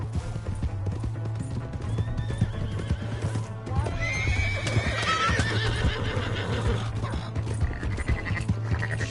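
A horse's hooves clip-clop at a gallop while it neighs loudly in the middle, with a game's steady background hum beneath.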